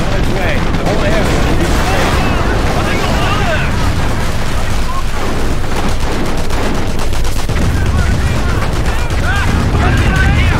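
Battle in the World War II strategy game Company of Heroes, with dense continuous gunfire, machine-gun bursts and explosions, loud and chaotic throughout, with in-game voices shouting over the combat.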